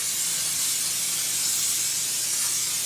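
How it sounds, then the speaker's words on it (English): Canola oil cooking spray, butter flavored, misted steadily into a casserole dish: a continuous close hiss lasting about three seconds without a break. "I'm gonna spray this casserole dish"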